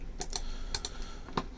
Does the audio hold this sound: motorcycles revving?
no